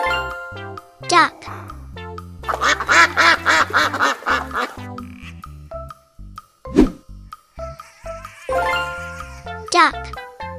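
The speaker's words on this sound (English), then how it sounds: "Duck." Duck quacking among farm animal sounds, heard as a short burst of nasal quacks amid a bright children's jingle with tinkling chimes, fairly loud and close.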